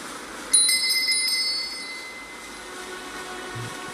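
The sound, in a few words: bell ringing in Elden Ring video game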